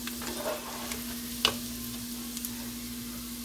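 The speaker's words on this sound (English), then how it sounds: "while I'm kind of sautéing the garlic" Garlic sautéing in butter on a stovetop pan set to medium, giving a steady soft sizzle with occasional small pops and a brief clink of a utensil, no talking.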